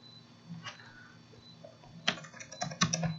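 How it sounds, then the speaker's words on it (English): Typing on a computer keyboard: sparse, light key taps early on, then a quicker cluster of louder clicks and clatter near the end, close and alone. "I'm so sorry for my bad typing."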